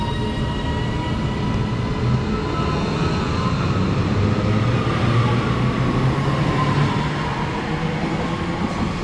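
A Northern train sits or moves at Leyland station on the Manchester Airport to Blackpool North service, giving a steady, loud engine drone and low rumble with no voices.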